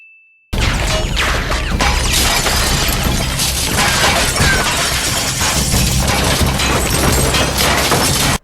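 A loud crash of glass shattered by a gunshot, sharp and sustained, with shards clattering and tinkling for several seconds.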